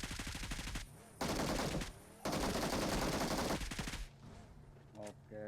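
Automatic gunfire in the battle royale game PUBG, several long loud bursts of rapid shots separated by short pauses, with a brief voice near the end.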